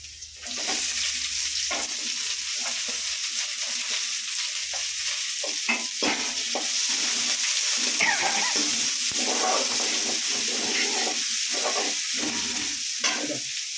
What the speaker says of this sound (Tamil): இதோ வெங்காயம் போடுறேன்